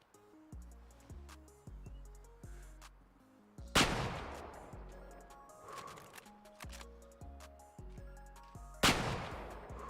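Rifle shots in a hunting video game ring out one after another, each with a sharp crack and a fading echo, two standing out louder among a string of quieter reports.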